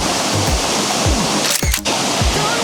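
Steady broadband rush of a waterfall near Manyava in the Carpathian mountains, a continuous close roar filling the whole clip with a brief dip near the middle and no talk.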